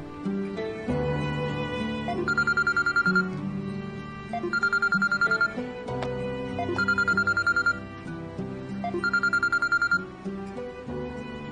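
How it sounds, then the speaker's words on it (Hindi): A phone ringtone plays in repeated bursts, three clear rings with a melodic electronic tone over a steady musical background, during a Hindi-dubbed drama episode. "मैं फोन लगा के देती हूँ, रुको।"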